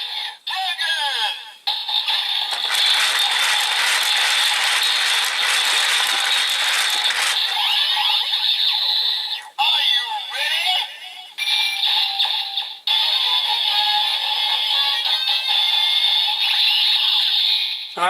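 A Kamen Rider Build DX driver toy is cranked, giving a continuous ratcheting whir layered with loud electronic sound effects. It plays almost without a break and stops briefly a few times.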